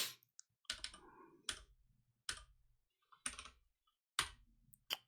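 Short bursts of computer keyboard typing while coding in Rust, a few quick clusters of crisp keystroke clicks separated by silent pauses, close and quiet.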